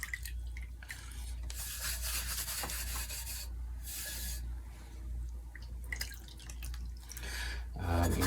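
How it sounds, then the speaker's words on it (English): Wet sponge wiping down a pottery wheel after throwing, with clay-laden water on the wheel: steady soft rubbing and swishing strokes, close and quiet, with brief pauses between passes. "you can just take your sponge and give it a good wipe down."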